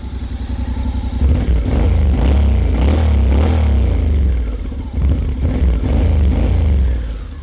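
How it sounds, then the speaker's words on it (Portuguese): A 2022 Honda NC750X motorcycle with DCT gearbox idles steadily in neutral up close with a low, lumpy rumble, a few soft revs and light mechanical clatter, no voices. "Vamos ligar a moto, deixa eu colocar aqui no N, para ouvir esse ronquinho."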